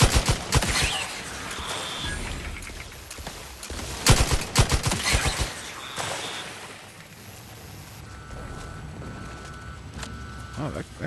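Gunfire in the video game Outer Worlds 2: rapid bursts of sharp automatic shots, loud and close, in clusters with brief pauses, mixed with game effects and occasional beeps, with a player talking over it.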